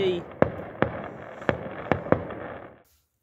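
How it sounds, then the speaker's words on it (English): Random fireworks going off outdoors, five sharp bangs at irregular intervals under a continuous crackling hiss, fairly close, before cutting to silence. "Loved the random fireworks show."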